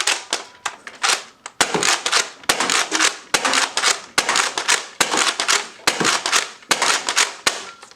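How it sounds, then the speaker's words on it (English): A Nerf Rival Apollo blaster fires a 7-round magazine, giving a close series of sharp, snappy shots in a quick irregular rhythm, each crack followed by a short mechanical rattle. "So now we have the firing demo for the Nerf rival Apollo"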